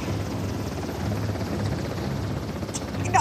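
Helicopter in the video game Uncharted: Lost Legacy, a steady rotor drone and hum running the whole time at moderate distance, with a player's voice partly mixed in.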